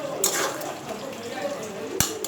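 Salt is stirred into a Bengali Mourola fish curry cooked with radhuni in a pan: soft scraping and faint sizzling, with a sharp clink of the spoon near the end, under a quiet kitchen background.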